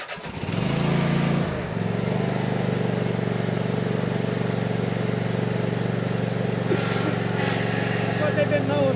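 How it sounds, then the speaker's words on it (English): A Cub Cadet riding lawn mower engine starts up and settles into a loud, steady running drone at a house and property auction in Kansas, with a brief rise at the start and faint voices underneath. "Cub Cadet mower, that's what they've been mowing the yard with right here"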